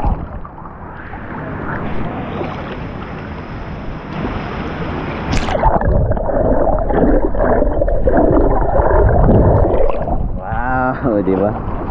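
A camera dunked into clear, shallow sea water at Boracay, first a muffled rushing underwater wash, then a splash as it surfaces into open-air water and wind noise with people talking.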